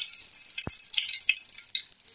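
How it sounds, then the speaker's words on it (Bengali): Two dried red chillies tempered in hot oil in a wok, a steady high-pitched sizzle and crackle heard up close, broken by a single sharp pop and a few fizzing flare-ups. "কড়াতে তেল বসিয়ে দিয়েছি। এর মধ্যে আমি দুটো শুকনো লঙ্কা ফোড়ন দিই।"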